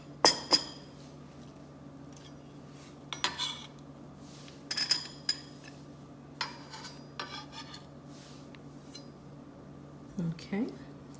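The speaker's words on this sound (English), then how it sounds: "now we're going to put this over into a small mixing bowl" Thin-sliced tomatoes are moved into a small mixing bowl, making scattered clinks and scrapes of utensils against dishes. Several short bursts sound over a low steady kitchen hum, with a voice talking faintly at times.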